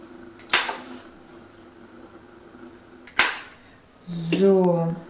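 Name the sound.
paper punch cutting corners off a card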